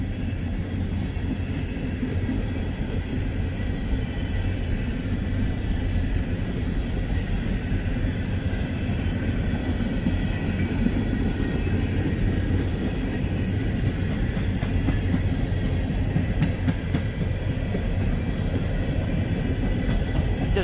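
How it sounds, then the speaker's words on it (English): An empty Norfolk Southern coal train passes at a distance, giving a steady low rumble and rolling rail noise that holds evenly throughout with no horn. "Actually an empty coal train"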